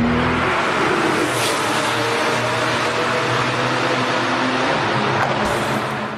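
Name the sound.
Porsche 911 sports car engine revving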